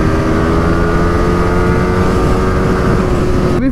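A motorcycle rides along a road after a crash, its steady engine drone loud and continuous with heavy wind rush on the microphone, and no speech.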